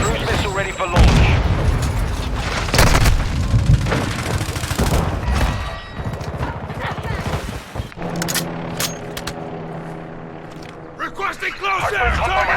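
A cruise missile launch and impact in the video game Call of Duty Modern Warfare 2 come through as heavy booms and rumbling blasts mixed with gunfire and radio chatter, with the intensity easing toward the end.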